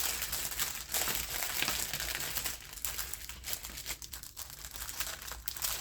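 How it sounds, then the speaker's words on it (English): Paper and plastic packaging being crinkled and handled while going through a botanical envelope junk journal, a continuous close rustle and crackle with no talk. "Sorry for all the crinkling."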